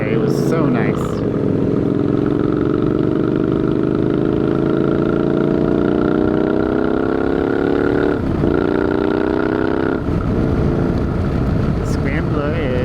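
A Scrambler motorcycle engine is heard while riding a winding back road, a loud steady hum that climbs slowly in pitch as it accelerates, with a rider's voice talking over it.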